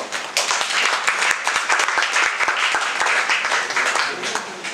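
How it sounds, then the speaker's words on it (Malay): Classroom of students giving loud, sustained applause at an additional mathematics workshop, with dense clapping throughout and a few voices mixed in. "Tepukan gemuruh."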